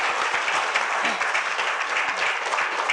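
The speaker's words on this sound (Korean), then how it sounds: "호소미 교수님께 다시 한번 박수를" Audience applause at a forum for a professor after her presentation, continuous broad clapping from many people in a hall, even and sustained throughout.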